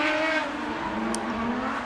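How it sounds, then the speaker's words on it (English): A severely underpowered BMW drift car screams through a drift battle at a British Drift Championship pro-am event, its engine roaring loud and close while the tires squeal continuously throughout. "Sutton in the chase position in the severely underpowered BMW."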